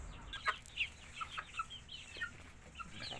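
Chicks peep and chickens cluck in a coop of Thai red and New Zealand layer breeds, with scattered high chirps over a low steady farmyard background.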